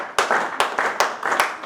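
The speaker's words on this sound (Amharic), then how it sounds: "ሞቅ ያለ ጭብጨባ አድርጉላቸው።" An audience applauds at a thank-you and farewell ceremony, a dense patter of many hands clapping with quick rhythmic accents, close and fairly loud.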